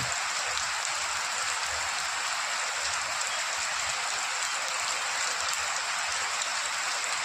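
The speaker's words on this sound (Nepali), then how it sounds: "बिहानदेखि ननस्टप पानी परेको छ।" Steady, nonstop rain falls in Chitwan, a dense, even hiss of drops on surfaces that stays constant throughout with no voices.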